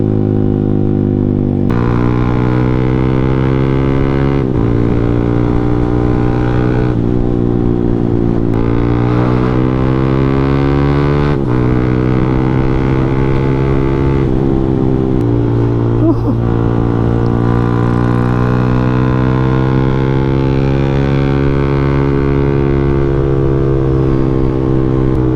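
A Yamaha Sniper 155 motorcycle engine with an Aracer racing ECU screams on a dyno, revving loud and close in repeated sweeps up toward its 12,500 RPM red line and holding near the top.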